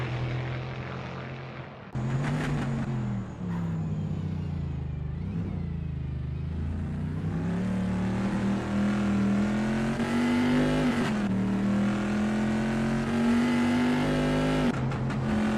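A powerful Bizzarrini race car engine roars continuously at the Imola circuit, its pitch climbing and shifting as it revs, loud and close with no voices.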